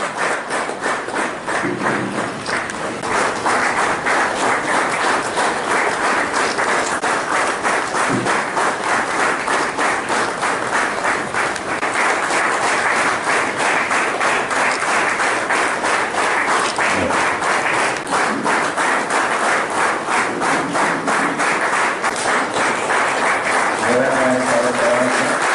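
A big crowd at a Marxist party rally in Vikramgad keeps up loud, sustained applause, a dense continuous roar of clapping with occasional thumps, and voices briefly emerging near the end.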